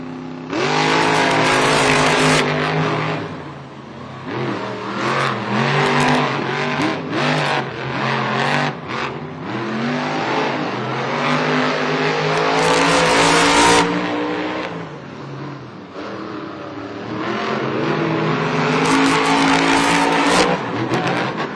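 The Monster Jam trucks Avenger and Gravedigger race head-to-head in a San Diego stadium, their loud engines roaring and revving with shifting pitch and crowd noise, the sound swelling and dipping as they charge.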